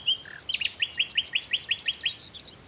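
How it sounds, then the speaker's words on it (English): A male nightingale sings in woodland: a quick run of about nine bright, evenly spaced chirping notes follows a short opening phrase, fairly close and clear over quiet background. "Nightingales are small, nondescript birds, rarely seen. The male sings to attract a mate, listening intently for a response."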